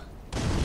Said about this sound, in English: Fire bomb.